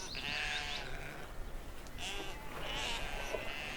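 Domestic sheep bleat in a European pasture, two or three wavering calls, fairly close, over steady background noise.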